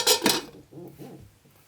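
Two quick clinks of a lid set down on a homemade wine fermentation vessel, close and sharp, followed by a faint rattle as it settles.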